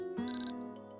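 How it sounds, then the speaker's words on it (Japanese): A wristwatch alarm in a visual novel game gives four quick, shrill electronic beeps in an even rhythm, clear and close over a sustained background tone. "その時彼女の腕時計のアラームが生真面目で融通の効かなそうな電子音を響かせた。"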